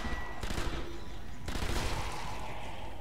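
Two short, sharp bursts of gunfire in Sniper Elite Nazi Zombie Army crack out against a steady electronic background hum.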